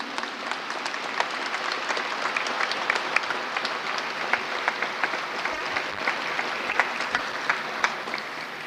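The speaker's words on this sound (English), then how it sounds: "May I request a big round of applause for our yoga ambassadors in Netherlands?" An audience at an International Day of Yoga event in The Hague applauds the yoga ambassadors in the Netherlands, sustained, moderately loud clapping with distinct individual claps standing out, lasting nearly nine seconds.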